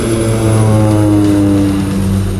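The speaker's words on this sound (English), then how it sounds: "airplanes every couple of minutes landing and taking off" A steady, loud drone of a propeller airplane passing overhead near an airport, with low engine tones holding throughout and no voices.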